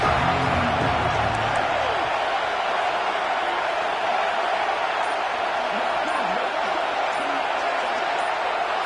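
Football stadium crowd cheering on a third down, a dense, steady roar that fills the whole stretch with a faint hint of voices underneath.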